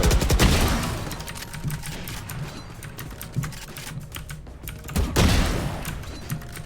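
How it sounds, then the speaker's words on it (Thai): Rapid gunfire in a first-person shooter deathmatch, bursts of automatic fire at the start and again near the end, with clattering keyboard and mouse clicks throughout. "เดี๋ยวมาลองยิง เดสแมท"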